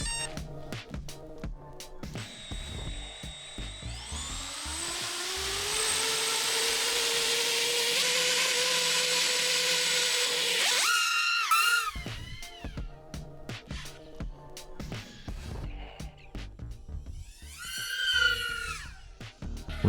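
An FPV drone running on an 8S battery spools its motors up into a long, loud, rising whine that holds steady, then cuts off into choppy bursts of revving and a final sharp climb, close to the microphone.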